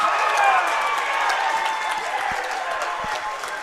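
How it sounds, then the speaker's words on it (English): A home crowd at a Scott High wrestling match cheers and applauds in a gym, a broad roar of voices and clapping that swells early and then holds steady at moderate distance. "That got the predominant Scott High crowd going here."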